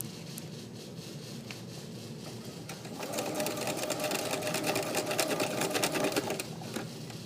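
A sewing machine stitches a knit neckband with its bobbin low on thread, a soft intermittent whir at first that swells into a steady, fast, rattling run of stitches, close up and with no speech.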